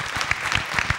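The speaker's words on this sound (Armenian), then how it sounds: "կարող ենք մի հատ իրենց հետ ծափահարել" A studio audience at a reality show talk program claps, a dense steady patter of many hands at close range, sustained for the full second.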